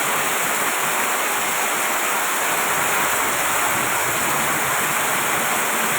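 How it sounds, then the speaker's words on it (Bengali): Heavy rain pours down in a dense, unbroken roar, loud and steady throughout with no pauses. "লাইভে প্রচুর পরিমাণ বৃষ্টি হইতেছে, আমরা লাইভ করতেছি।"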